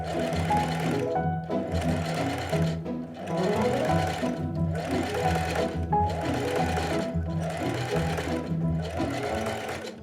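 A sewing machine stitches a coiled jelly roll fabric rug, running in steady humming bursts with brief pauses between seams, close and even in level.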